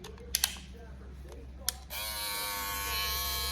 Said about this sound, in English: And that's the shaver.